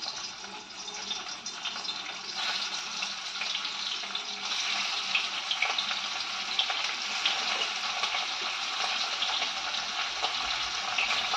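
Pieces of fish fry in hot oil, giving a constant close hiss and crackle that stays loud and steady the whole time, with no one talking.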